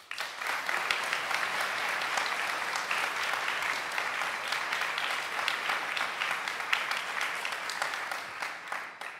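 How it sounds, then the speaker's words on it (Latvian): Audience applause at a symphony orchestra and prize-winners' concert of a music school, close, dense and steady clapping from a large crowd lasting about nine seconds and tapering at the end. "Aplausi!"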